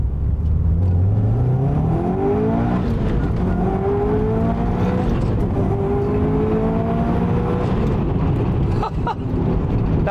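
Subaru Impreza WRX STi S204 engine revving hard in first gear toward nearly 8,000 RPM, its pitch climbing steadily and repeatedly in loud, sustained pulls that fill the whole stretch.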